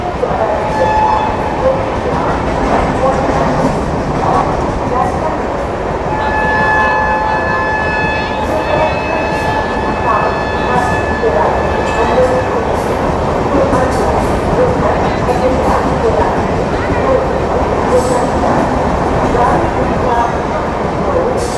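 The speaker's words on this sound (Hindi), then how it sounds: "ये गई दोस्तों बेंगलोर की ओर जाने वाली कर्नाटक एक्सप्रेस।" Karnataka Express passenger train bound for Bangalore rumbling past at close range, a steady loud roar of wheels and carriages throughout with tonal squeals, and a voice speaking over it.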